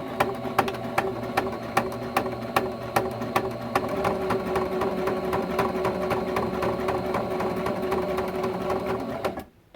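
Sewing machine stitching a quilt, a fast regular mechanical clatter of needle strokes running steadily close by for nearly ten seconds, then stopping at the end.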